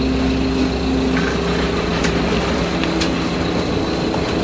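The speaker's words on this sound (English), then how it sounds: "I'll start the engine now" Sailboat auxiliary engine running, a steady, close mechanical drone with a constant hum, loud and unbroken.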